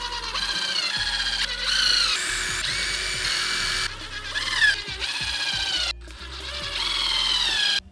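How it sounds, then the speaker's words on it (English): A power drill bores pilot holes into wood for a DIY calf raise block, whining loudly in several bursts with brief pauses, the motor pitch rising and falling as the bit bites. "I'm going to do some pilot holes right here"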